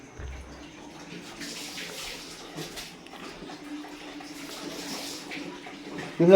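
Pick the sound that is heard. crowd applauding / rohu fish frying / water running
water running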